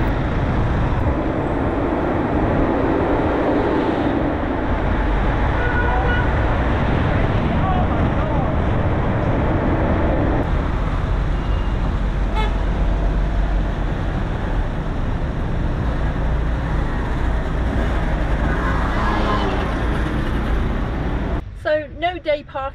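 Busy city traffic in Marrakech, Morocco heard from inside a moving camper van: a loud, constant engine and road rumble with wind noise, while someone talks over it throughout.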